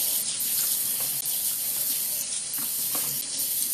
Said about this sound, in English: immediately rinse it with cold water